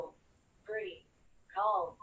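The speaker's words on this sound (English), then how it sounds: "Sorry about that ringing in the background." Telephone ringing in the background during a talk on personal finance: two tonal ring bursts, the second longer and louder, spaced by a short silence, with no voices.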